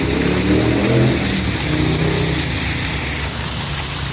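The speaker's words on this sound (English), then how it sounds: "And a really, really loud motorcycle on the road down below me." Loud engine roar of a motorcycle on a road below a mountain trail, droning and revving with shifting pitch, then easing slightly as it moves off.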